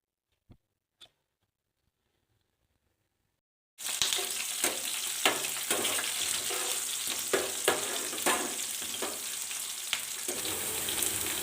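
Mustard seeds and cumin hit hot oil for a Telugu bottle gourd and prawn curry, bursting into a loud, steady sizzle with scattered pops and crackles after a few quiet seconds.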